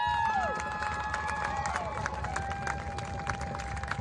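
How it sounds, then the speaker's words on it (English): A large crowd in the stands at a Cedar Grove-Belgium vs. Random Lake high school varsity football game cheers and claps for the homecoming court, a steady roar of noise with whistles and shouts running the full four seconds. "let's give our court one more big round of applause"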